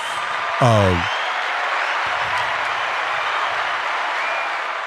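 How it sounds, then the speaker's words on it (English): Audience hand claps form a steady, moderately loud wash of clapping, with a brief vocal whoop rising above it near the start. "let's give them some hand claps too."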